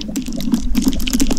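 Water placed in the Minecraft video game gives a short, close burst of splashing, bubbling liquid with a steady low gurgle beneath.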